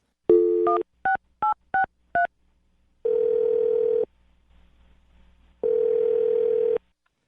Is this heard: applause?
no